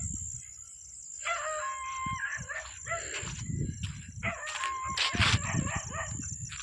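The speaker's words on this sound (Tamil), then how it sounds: "நாய் கூட கொலைக்குது." A dog barks outdoors beside a walking track, giving a couple of short clusters of sharp, high barks and yelps at moderate distance over a steady high-pitched background hum.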